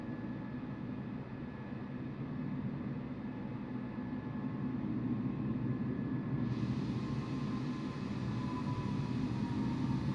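An Airbus A320neo jet rolling for takeoff in Microsoft Flight Simulator, a steady rumbling roar of engines and runway noise, constant and building slightly, with no talk over it.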